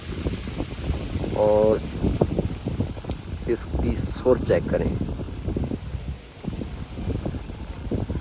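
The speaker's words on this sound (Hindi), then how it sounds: "ये हवा की जो है आवाज़ आपको सुनाई दे रही होगी" Strong, cool wind rushes through a peepal tree outdoors, a continuous gusty roar with microphone buffeting, while someone talks over it throughout.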